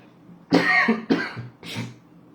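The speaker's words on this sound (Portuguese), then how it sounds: "Eu vou ficar tossindo de vez em quando" Three rough coughs come in quick succession, close and fairly loud, then the clip goes quiet.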